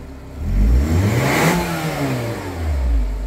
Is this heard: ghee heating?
no